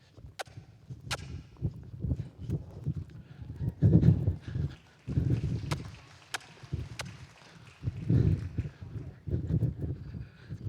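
Horse loping in a trainers' competition finale arena, with rhythmic, muffled hoofbeats in steady bursts and occasional sharp clicks, fairly close, without talk.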